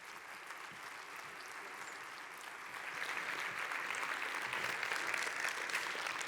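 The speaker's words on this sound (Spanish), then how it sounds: "Así que la recibimos con un fuerte aplauso y esperemos que disfrutéis." Audience applause at a breast and genital cancer women's association congress session, a steady dense clapping that swells louder halfway through, with no talking.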